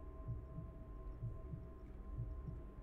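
Low, muffled double thumps of a heartbeat pulse steadily in the horror game Welcome to Kowloon, three beats in a row over a constant droning hum, with no talking.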